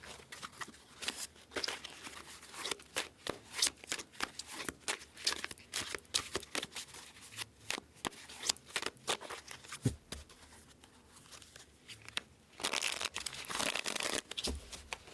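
A deck of tarot cards is shuffled and cut by hand during a weekly Pisces reading, giving a dense run of close, papery riffles, snaps and crinkles with a louder, sustained flurry near the end. No one speaks.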